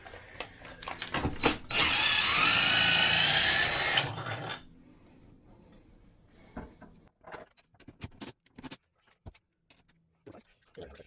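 A power drill drives bolts on an RV rooftop air conditioner being replaced, with a loud steady whir of about two seconds after some clunks. Scattered knocks and handling noises follow, and a voice speaks briefly near the end.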